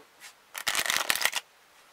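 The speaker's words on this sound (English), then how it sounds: "I'm going to shuffle them a little better than I normally do." A deck of playing cards is riffled once, a quick burst of rapid flutters and snaps close by, followed by quiet.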